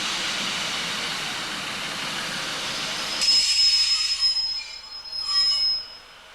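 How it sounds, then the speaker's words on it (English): A Central Trains Class 156 diesel unit pulls into platform 2 at Worksop Station with a broad rushing rumble, then high metallic wheel squeals ring out in bursts as it slows, fairly close. "A Central Trains 156 unit comes into platform 2 from Nottingham."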